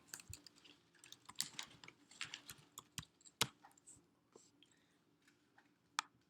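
Typing on a computer keyboard while entering login details, with irregular soft key clicks and occasional sharper taps close by in a quiet room.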